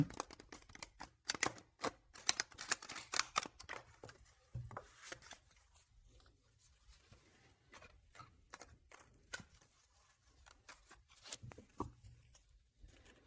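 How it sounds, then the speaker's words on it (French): Tarot cards being shuffled by hand, a quick run of crisp riffling taps and flicks that is dense at first and then thins to softer, scattered card snaps, close and fairly quiet with no talking. "Je vais faire un petit peu de bruit pour bien mélanger les cartes"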